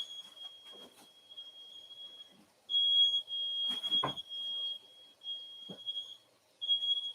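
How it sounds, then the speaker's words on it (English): A smoke alarm sounds a steady high-pitched tone in long bursts with short gaps, with some clattering and handling noises in between. "I better take care of this fire alarm"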